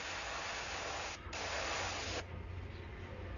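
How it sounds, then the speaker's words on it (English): An airbrush sprays paint in a steady, close, loud hiss, briefly interrupted once and then continuing more quietly. "And spraying just the bottom."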